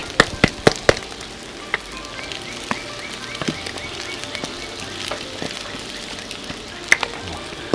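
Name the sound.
minced garlic sizzling in stir fry on Blackstone griddle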